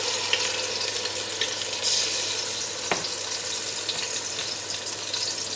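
Garlic ginger paste going into half a cup of hot oil sets off a steady, hissing sizzle with occasional small pops and clicks, moderately loud and continuous, with no talking.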